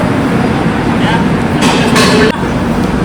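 A passenger train rumbles with a steady, loud broadband roar, swelling briefly in the middle before settling again, with no voices standing out.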